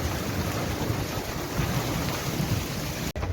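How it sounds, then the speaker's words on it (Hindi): Steady rain pours over a village in Saudi Arabia, a dense, even wash of broadband hiss with low rumbling, continuous and close, with a brief dropout near the end. "ये देखें सऊदी अरब में माशाल्लाह बारिश हो रहा है"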